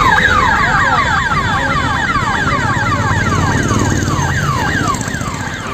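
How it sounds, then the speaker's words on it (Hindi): A loud electronic bank alarm siren at a Punjab National Bank branch in Danapur wails in rapid, repeating rising sweeps, continuous and close, with a steady low rumble beneath. "सायरन की लगातार गूंज रही आवाज ने हर किसी के कान खड़े कर दिए।"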